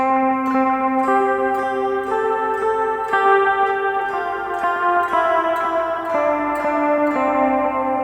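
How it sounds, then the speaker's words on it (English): Twinkle Twinkle Little Star played as a simple melody on a bright, bell-like keyboard tone, steady notes moving at an even pace, loud and close with no voices. "the worst melody I can think of is Twinkle Twinkle Little Star"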